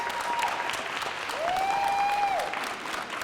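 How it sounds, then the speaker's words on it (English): Audience applause at a community conference plenary session, a steady wash of clapping that swells after a second or so and holds strongly to the end, with a brief whistle-like tone rising above it midway. "Yes, clap it up, clap it up."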